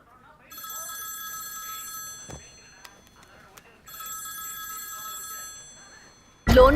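A telephone rings with a bright electronic trill in two bursts separated by a pause, with small clicks and handling noises between, then a sudden loud rustle at the very end.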